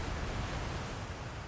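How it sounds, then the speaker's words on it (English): Water in the Outer Wilds video game gives a soft, continuous roar like distant surf, a brief, even wash of noise with no voices. "the water is so loud. Every single time."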